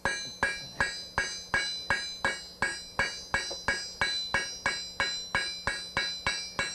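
A hammer strikes hot steel on an anvil in a steady, even rhythm, about two or three blows per second, each a sharp ringing clang that decays quickly, close and loud.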